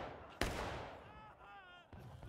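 A musket shot cracks sharply in the video game War of Rights during a Civil War-era battle, followed by a long rolling echo and more distant gunfire under faint background noise.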